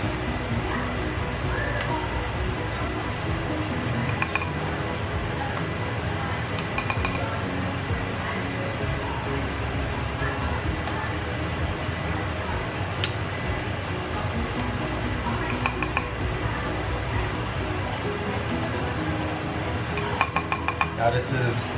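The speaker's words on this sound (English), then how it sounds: "I'm gonna go ahead and skim some of this out" A utensil scraping and clinking against a pot of simmering adobo as the surface is skimmed, with faint intermittent metallic taps and soft stirring over a steady low kitchen background.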